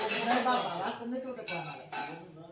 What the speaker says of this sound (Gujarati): વાસણ ઉટકવાના છે તારે